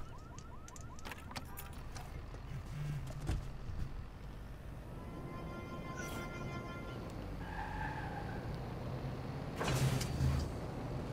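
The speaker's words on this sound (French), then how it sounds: "On va rentrer dans le véhicule." Car in the Watch Dogs 2 video game being entered and driven, with a steady engine and road hum throughout, a door or electronic chime near the start, a horn-like tone midway and a brief louder burst near the end.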